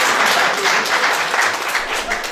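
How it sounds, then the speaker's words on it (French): An audience gathered for a visiting Togolese delegation in Cameroon breaks into loud, dense, continuous clapping, close and full throughout the brief stretch. "Oui. Applaudissons."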